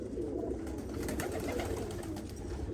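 Cream-coloured female pigeons kept for sale coo in a cage, a low steady murmur of calls close by with no talk.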